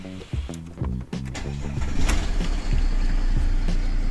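A Mercedes CLS with a 3-litre diesel engine is cranked by the starter in several short rhythmic bursts, then catches and settles into a loud, steady close-up idle rumble.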